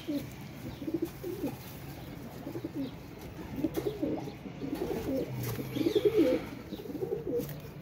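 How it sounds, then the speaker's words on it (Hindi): Domestic pigeons kept by a pigeon fancier coo in a series of soft, throaty, rhythmic calls, repeating close by with occasional fuller bursts and no talk over them. "ये देखें दोस्तों ज़रा कबूतर।"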